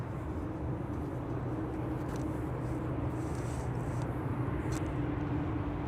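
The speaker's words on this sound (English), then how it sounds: "Dreamliner is now lining up." A KLM Boeing 787-9 Dreamliner lines up on the runway at Amsterdam Schiphol, heard as a steady, moderately distant low jet engine rumble with a constant drone throughout and no talk.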